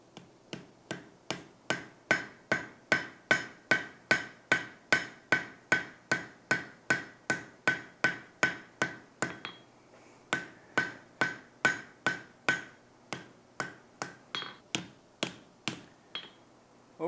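Hot steel is hammered on an anvil while forging a monkey tool, a long steady series of loud, ringing blows close by, evenly spaced at about two per second, with a brief pause midway before the strikes resume.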